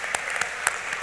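Applause at a high school underclass awards ceremony honoring a student: a short, steady patter of many hands clapping, with a few sharper claps standing out.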